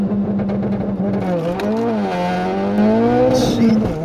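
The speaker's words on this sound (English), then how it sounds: "We're gonna go ahead and launch the car and see how it goes." A 500-wheel-horsepower Ford Focus RS launches from a standstill on a street, its engine note climbing and wavering loudly as revs rise and dip, with a brief hiss near the end.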